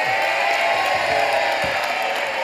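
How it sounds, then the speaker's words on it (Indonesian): A studio audience on a television game show applauds and cheers, a dense, continuous wash of clapping and crowd noise at steady loudness throughout. "Tepuk tangan untuk N Squad."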